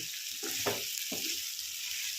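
Broad beans frying in a pan for a kasundi dish, a soft steady sizzle with a few louder bursts of stirring, close and without talk.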